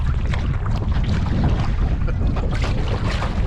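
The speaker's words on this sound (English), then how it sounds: "It's like 35-kilometer-hour winds today" Strong wind of about 35 km/h gusting across open water during a paddling trip, a steady loud roar of wind noise and rushing water filling the whole clip without any voices.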